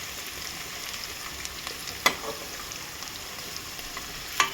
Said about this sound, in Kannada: ಸೊ ಇದನ್ನು ಇವಾಗ ನೀಟಾಗಿ ಫ್ರೈ ಆಗಬೇಕಿದು.